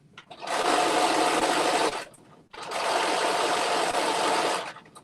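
A sewing machine fitted with a roll hem foot stitches a dress hem in two steady, loud, close runs of about one and a half and two and a half seconds, with a brief stop between them.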